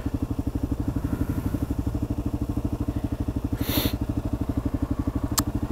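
A motorcycle engine idles in neutral at a red light, its steady low, lumpy rhythm running close and loud throughout, with a brief hiss and a faint high chirp over it.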